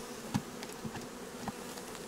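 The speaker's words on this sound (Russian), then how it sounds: "Вот то, что вот стряхиваем, что пчела ударяется" Honey bees, Carniolan and Buckfast, being shaken off hive frames at a migratory apiary, a loud buzzing swarm with a few sharp knocks of frames as clusters drop off.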